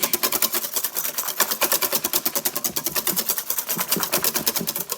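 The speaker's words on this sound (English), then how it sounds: "I'm going to go ahead and whisk that together some more." A whisk beats Guinness beer into batter for fried cod, making a fast, steady, rhythmic clatter against the bowl that is close and continuous throughout, with no talking.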